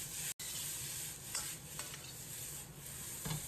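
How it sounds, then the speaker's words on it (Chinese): Garlic scapes stir-fry in a hot wok with a light salt seasoning, a continuous close, bright hiss of frying broken by several scraping spatula strokes and one brief dropout near the start. "把蒜苔炒至8成熟"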